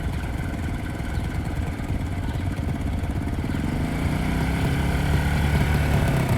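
A motorcycle engine at a driving school in Chattogram rises and swells as a learner opens the throttle, a continuous close revving drone that builds gradually toward the end.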